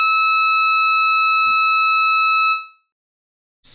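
An industrial Brazilian alarm siren from Tucanos sounds a steady, loud electronic tone with bright harmonics that holds for about two and a half seconds and then fades out, followed by a short thump and a brief burst of noise.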